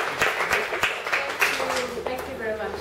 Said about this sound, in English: So a round of applause please for Shahira.